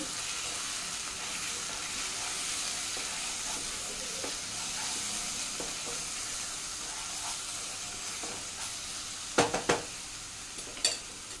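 Chole masala stirred into a hot pan of curry, a soft continuous sizzle and hiss near at hand, with a few scraping clinks of a spoon against the pan toward the end.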